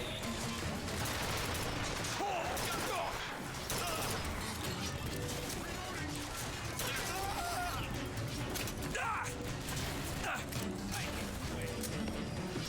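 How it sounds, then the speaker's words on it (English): Sustained gunfire aimed at a ship in Bioshock Infinite, a dense, continuous battle din of overlapping shots and crashing impacts that stays loud and busy throughout. "They're shooting at the ship and trying to destroy it."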